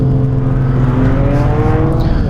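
A BMW M2 with a turbocharged straight-six engine drones loudly and steadily as it pulls, its pitch rising gradually in a short, continuous burst with no talking.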